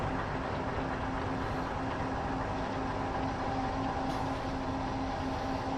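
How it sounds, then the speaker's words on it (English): A freight train in a train simulator game rolls past on the Main-Spessart line with a continuous rumbling drone and a faint steady hum, moderately loud and unchanging throughout. "There's a freight train on the way out."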